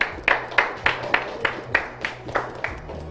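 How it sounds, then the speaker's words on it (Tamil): Sparse rhythmic clapping from an audience for Team B during a game show, about ten evenly spaced claps in a slow steady beat, fairly close. "என்னப்பா கைதட்டு அவ்வளவுதானா டீம் பிக்கு?"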